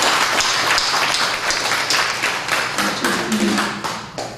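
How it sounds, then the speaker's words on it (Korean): Applause from a church congregation at a Sunday service, with sharp individual claps standing out from the steady clapping and a few faint voices near the end. "큰 박수 한번 드리겠습니다"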